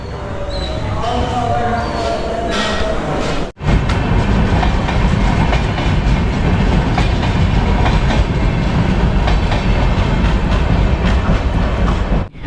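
The Mangala Express train rumbles steadily along the tracks with a rhythmic clatter, loud and close throughout, briefly cut once near the start; voices murmur faintly in the background.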